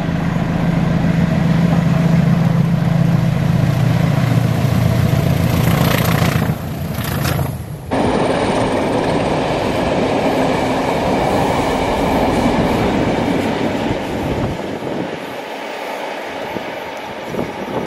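Locomotive-hauled excursion train on an Ayrshire line rumbling past close by, loud and sustained with rhythmic wheel clatter over the rails, a brief dip midway, then the rolling noise continues and gradually eases.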